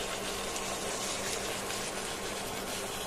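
Duck meat curry simmers in a pot, giving a faint, steady bubbling sizzle as the water cooks off and oil separates, continuous and close without any talking.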